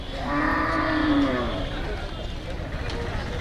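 A single long, deep moo from cattle or buffalo at a busy Eid livestock market in Faridpur, Bangladesh, fairly close, rising then fading over a couple of seconds amid outdoor background noise.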